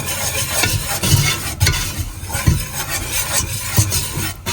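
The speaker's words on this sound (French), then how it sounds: "Mais on va faire un peu comme un roux." A spoon stirs shallot and flour into a roux for homemade mac and cheese, giving repeated scraping strokes against the pan with a soft sizzle beneath, close and fairly loud, with no speech.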